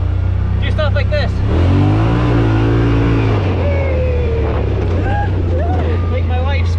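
A Yamaha Rmax 1000 side-by-side revs hard while being ridden off-road, its engine loud and close with rising and falling pitch over heavy wind buffeting. People talk over the engine.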